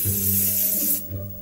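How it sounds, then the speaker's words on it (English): Cartoon-style spray paint can hissing, a loud continuous airy spray lasting about a second before cutting off, with a low hum underneath. "I am going to spray paint Miss Martin sucks on the side of the school."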